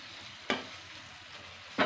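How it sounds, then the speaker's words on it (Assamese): Chicken masala spices frying in oil over a low flame, a soft steady sizzle broken by two sharp spoon stirs or scrapes in the pan, with no talking. "এয়া ধুনিয়াকৈ ফ্রাই হৈ গৈছে মশলাখিনিও"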